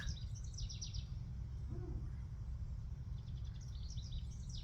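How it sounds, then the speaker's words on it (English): Faint bird chirps flutter in the distance, in short bursts near the start and end, over a steady low outdoor rumble. "Hear the birds."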